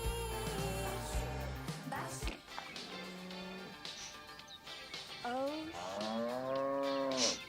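Cattle lowing in several long, drawn-out moos, loud and close, with a short clatter in between.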